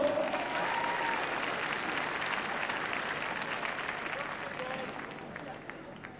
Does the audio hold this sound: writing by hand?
no